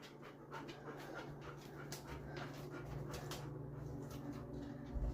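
Close, steady panting from a puppy at bath time, rapid rhythmic breaths continuing for several seconds alongside faint splashes and background noise, with no voices.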